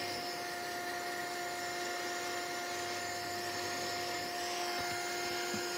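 A drying tool blowing over a journal page, a constant steady whirring motor hum with a high whine, continuous and fairly close, no talking.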